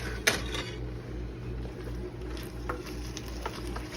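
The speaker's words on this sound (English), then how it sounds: "see, that sizzle comes back." Ground beef frying in a pan while cooking beef enchiladas, a steady close sizzle with a sharp metal scrape near the start and faint clinks of utensils.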